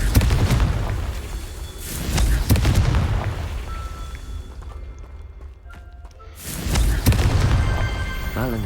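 Repeated Confringo blasting-spell explosions in the video game Hogwarts Legacy, loud booming bursts that come in a cluster early on, fade into a quieter lull, then return with another heavy blast near the end.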